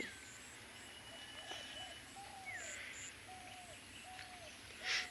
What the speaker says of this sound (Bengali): আকাশে পাখি উড়ছে,